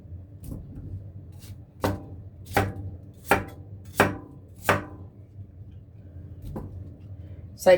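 A knife slices ginger into a couple of rounds on a cutting board for a Chinese-herb vegetable and pork tenderloin soup, with about six evenly spaced, sharp chops close up over a low kitchen hum.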